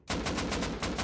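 Rapid automatic gunfire in the survival game Rust, a loud, close burst of evenly spaced shots with a brief dip before the firing resumes.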